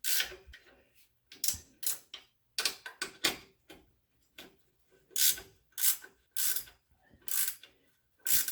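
A ratchet tightens bolts on an Apex Fabworks Step Edition rock slider on a 3rd gen Toyota Tacoma, with quiet bursts of rapid clicking separated by short pauses.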